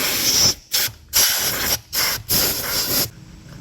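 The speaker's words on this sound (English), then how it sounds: "I'm going to take the air blower and blow everything that I can out from around the valve cover" Short bursts of compressed air from a blower hiss loudly around the valve cover of a 2005-2010 Ford Mustang 4.0 V6 engine, about five blasts with brief pauses between them; no talk.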